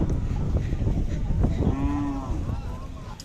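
Khillar cattle at the crowded Jat livestock fair give a single drawn-out moo, loud and near, over a busy background of crowd murmur and movement.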